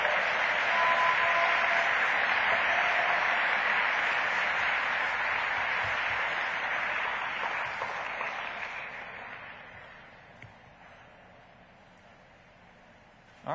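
Audience applause for the Oak Ridge High School team at the National Science Bowl finals awards ceremony, a sustained, dense wash of clapping that holds steady for several seconds and then tapers off to quiet near the end.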